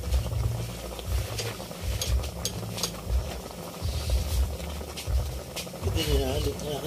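Ginataang tulingan (tuna in coconut milk) with eggplant simmers in a pot, giving a steady bubbling and light crackle throughout with a low voice murmuring underneath.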